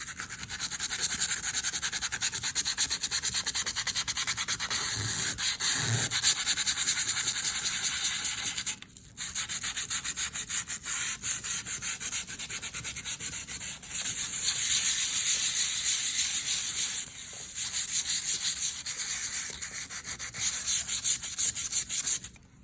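Sandpaper rubbed over a transparency prepared for a portrait, a continuous close, loud scratchy back-and-forth sanding with a couple of brief pauses, no voices.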